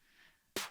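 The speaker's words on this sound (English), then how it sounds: "I have my kind of like crunchy snare" A single loud, crunchy snare hit lands near the end after a faint quiet stretch, with a sharp bright attack and a short gritty decay.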